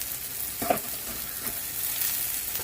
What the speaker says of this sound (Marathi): परत एक वेळेस परतून घ्यायचं चांगलं.